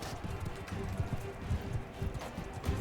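Hooves thud in a quick, repeated rhythm as a horse gallops in Mount & Blade II: Bannerlord, muffled and steady against a soft background hum.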